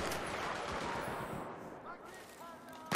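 Dense, rapid gunfire and explosions rattle through a co-op mission of the shooter game Battlefield 3, a continuous clattering barrage at moderate volume that ends in a sharp burst.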